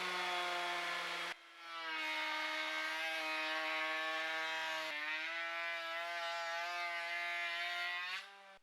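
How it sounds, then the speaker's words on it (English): A DeWalt 2 1/4 HP router with a raised panel bit cuts into walnut, giving a loud, high, tonal whine that dips briefly as the bit bites, then holds steady through two long passes before winding down. "Now it's the Dewalt's turn to attack this walnut with the raised panel bit in it."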